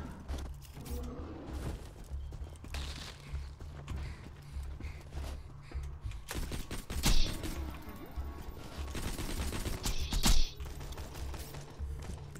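Borderlands 2 gameplay with gunfire, crisp critical-hit impacts and punchy amp shot bursts, plus mechanical clicks and clatter over a low steady game hum, loud and close.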